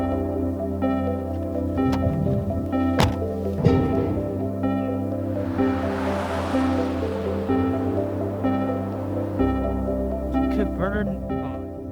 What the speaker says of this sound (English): When you see a foss, that's waterfall.